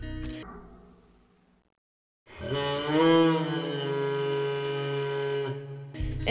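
Minecraft goat horn, Dream variant, in-game: after a fading voice and a short pause, a single sustained, wavering horn tone sounds for about three seconds, moderately loud and alone, then stops abruptly.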